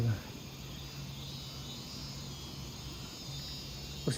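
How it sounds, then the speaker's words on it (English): A steady, high drone of cicadas fills the background outside an abandoned house in Ipoh, Malaysia, faint and continuous, with a low hum underneath and a brief thump at the start and end. "you can hear the cicadas"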